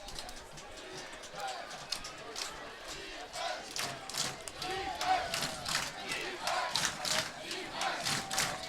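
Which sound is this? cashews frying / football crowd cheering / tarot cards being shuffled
football crowd cheering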